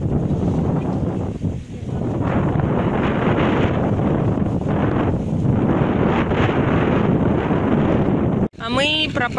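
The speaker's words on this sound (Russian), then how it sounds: "тут ветрюган" Strong wind buffets the microphone in a constant loud roar in a vegetable garden, briefly cutting out near the end before a short burst of birdsong.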